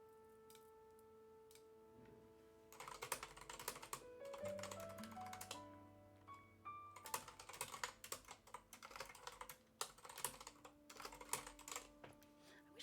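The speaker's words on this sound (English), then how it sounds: "I wish my keyboard didn't sound so plasticky. It is fun to type though." Fast clattery typing on a light, plastic-sounding computer keyboard, in uneven bursts with short pauses, close and fairly quiet over faint tones.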